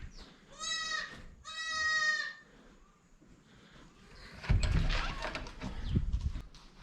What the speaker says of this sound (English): A different goat is making a whole lot of noise.